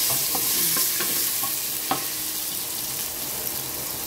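Garlic sizzles in hot cooking oil while being stirred for a Filipino mung bean stew, a steady close crackle broken by light scrapes and taps of the utensil against the pan.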